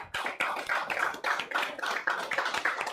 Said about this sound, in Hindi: 2 मिनट समोसा बाजू में रख के तालियां बजाओ पहले